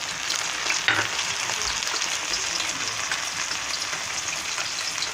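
Grated tomatoes go into a hot frying pan for karnıyarık and sizzle, a dense, close crackling hiss with a brief louder spatter near the start, steady throughout with no voices.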